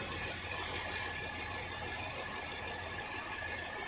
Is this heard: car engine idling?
yes